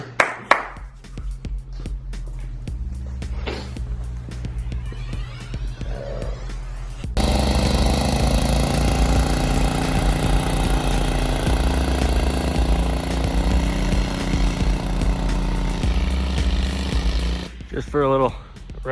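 Tracked off-road lawn mowers run in deep snow, first a lower rumble under talk, then a loud sustained engine roar filling most of the clip, briefly dropping away near the end as voices return.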